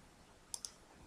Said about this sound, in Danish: eleverne bare lige trykker højreklik, og så kopierer, og så indsæt